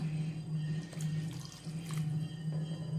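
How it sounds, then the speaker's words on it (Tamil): Water pours and splashes steadily into a pot of simmering egg gravy over a low, constant hum, with faint bubbling and light clinks near the microphone. "இப்போ இன்னும் கொஞ்சம் தண்ணி ஊற்றிக்கலாம்."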